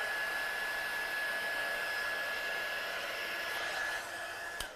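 A heat tool blows a steady, loud, hissing roar while drying watercolour over embossing, with a faint whine running through it, continuous and close until it cuts off near the end.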